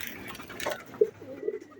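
A pigeon coos softly up close, a few low throaty hoots in quick succession over quiet background.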